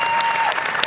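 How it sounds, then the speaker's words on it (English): Brief applause for conference panelists at a national Arab American convention, a dense patter of clapping from an audience lasting under a second, with a thin tone running beneath. "Round of applause for our panelists"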